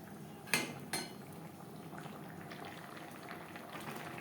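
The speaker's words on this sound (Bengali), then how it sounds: "সবজির সাথে মাছ আরও 3-4 মিনিট রান্না করব।" Fish and ridge gourd simmer together in a pan for a light fish curry, a faint continuous bubbling broken early by two quick metallic clinks of a utensil.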